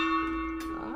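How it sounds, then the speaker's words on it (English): A struck gong rings out with a steady, sustained metallic tone rich in overtones, holding loud and even for about a second with a faint extra shimmer partway through. "The gong sounds like this."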